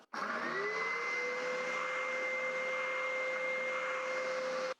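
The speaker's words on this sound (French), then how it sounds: "un petit aspirateur esclave" A small slave shop vacuum extracting wood sanding dust from a workbench starts up, spins to a steady high whine with a constant hum, then cuts off, loud and close throughout.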